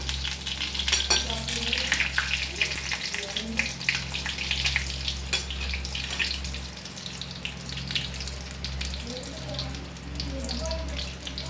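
Paneer fingers shallow-frying in ghee, a steady close sizzle and crackle running throughout with occasional stirring clinks, with no voices.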